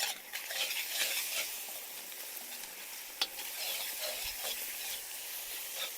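Chanterelle mushrooms with honey being stirred in a hot frying pan, a continuous sizzle with scraping spoon strokes and one sharp clink, close and steady.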